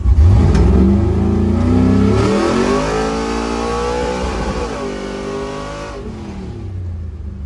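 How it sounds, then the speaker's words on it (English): A Chevy S10 with a swapped 6.0 LS V8 and a 4600 stall converter roars at wide open throttle, loud and close, its engine note climbing steadily through the revs before backing off near the end. "Wide open throttle now with the 4600."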